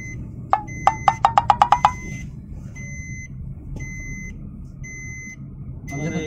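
A car's seatbelt reminder chimes in a quick run of about nine evenly spaced beeps, followed by a sparser series of higher electronic tones over a low engine rumble inside the cabin.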